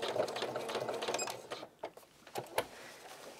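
Sewing machine stitching a straight line then backstitching at the end of a seam for a welt pocket, a steady close whir that breaks into short bursts and stops near the end.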